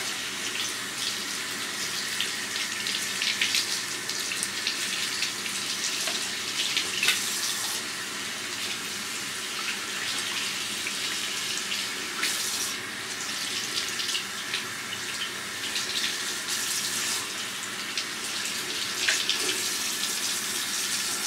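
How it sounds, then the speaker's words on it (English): Tap water runs steadily over bleached hair extensions as the bleach is rinsed out, a close, continuous splashing stream with no talk throughout. "Make sure you get all the bleach out. And then we're going to rinse it."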